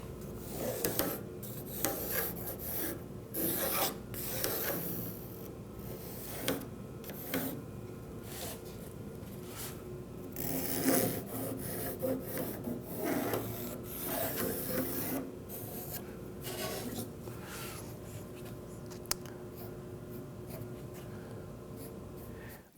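Pencil scratching and rubbing across a wooden board in short repeated strokes while a cut line is marked for a picnic table, close and dry, with brief pauses between strokes.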